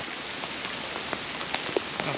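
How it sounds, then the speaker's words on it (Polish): Steady rain from a spring storm with hail pattering through a forest, a dense even hiss with scattered sharper drop ticks, fairly close and moderate in level, with no voices. "mamy teraz wiosenną burzę, z deszczem i gradem"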